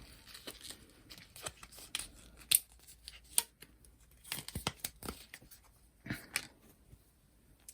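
Wrapping being cut and torn off an item from a witch-themed subscription box, with scattered crinkles, snips and tearing bursts at close range, fairly quiet overall with no talking.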